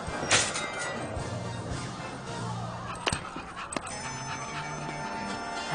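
A dog at a dog show competition pants and whimpers close by in uneven bursts, with a few sharp knocks and clatters between the breaths.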